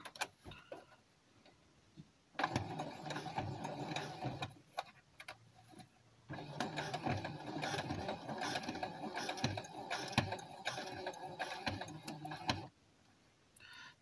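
Sewing machine topstitching along the edge of a fabric face mask: two runs of fast, close mechanical whirring and needle ticking, separated by a short quiet pause, with faint handling noise before and after.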